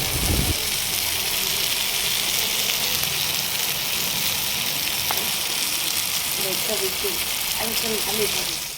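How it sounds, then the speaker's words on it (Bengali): Mixed vegetables frying in a pan in a village home kitchen, a steady hiss of sizzling that carries on throughout at moderate loudness, with faint sounds of the surroundings in the background. "এখানে মা রান্না বসিয়ে দিয়েছে মিক্স ভেজ হচ্ছে"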